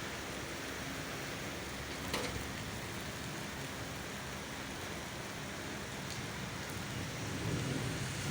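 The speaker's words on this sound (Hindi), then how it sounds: "तो धीमे धीमे बारिश हो रही है जी, के साथ हवा भी चल रही है।" Light rain falls steadily with wind on a cool morning in Kundian town, a dense continuous hiss with a faint crackle near the two-second mark, a soft gust swelling toward the end, and no voices.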